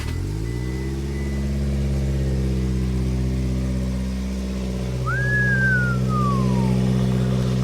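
A Subaru Sambar truck with a custom exhaust idles close by with a steady low rumble, its pitch rising slightly as the engine settles, and a short high whistle slides down near the end.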